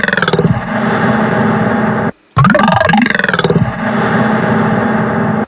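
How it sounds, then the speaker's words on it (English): Harsh, buzzing growl synth with reverb gradually faded in, playing on its own at close range and loud, with a brief dead gap before a pitch-bending stretch and a swelling reverberant tail. "I actually did fade in the reverb."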